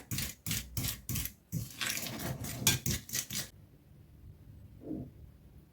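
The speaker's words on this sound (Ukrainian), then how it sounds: "І загалом приблизно я змішувала це все, перебивала виделкою до 5 хвилин." A fork beats and mixes dough ingredients in a bowl for Ukrainian paska, giving quick rhythmic scraping and clinking strokes in bursts that stop abruptly, then a faint soft knock near the end.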